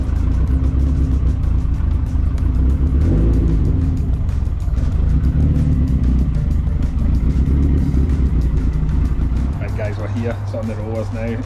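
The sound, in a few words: SR20det Ford Anglia engine running on rolling road dyno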